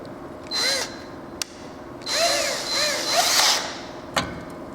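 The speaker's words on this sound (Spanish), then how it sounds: "Vamos a profundizar un poco y a la vez que vamos rotando el taladro en este sentido." A power drill fitted with a smaller bit bores out a stuck rivet on an ICP Savannah S aircraft, giving several short whining bursts that rise and fall, with sharp clicks between them, close up.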